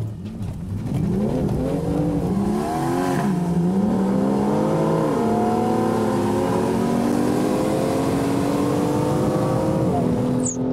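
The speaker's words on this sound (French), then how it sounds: "avec une ligne d'échappement, le bruit que ça fait, c'est juste incroyable" A BMW M2 with an aftermarket exhaust line revs and climbs through the gears on an airstrip track, rising and dropping in pitch, loud and close, with a sharp upshift pop near the end.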